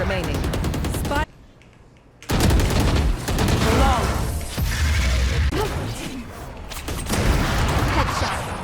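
Rapid bursts of gunfire in the tactical shooter Valorant crackle loudly, broken by a short quiet gap, with game voice callouts and player talk mixed in.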